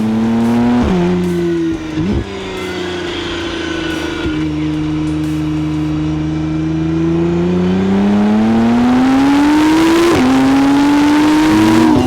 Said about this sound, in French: L'accélération est impressionnante. À pleine puissance, c'est immédiat et quasiment infini.